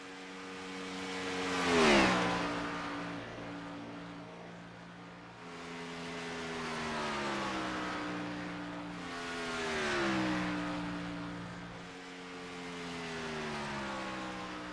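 Race cars lapping the Atlanta racetrack during qualifying, Ian Nelson's among them, with several loud engine passes that rise and fall in pitch as each car sweeps by, the first one nearest and sharpest.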